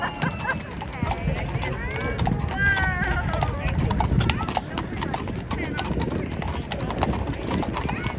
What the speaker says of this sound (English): These are the horses, police horses.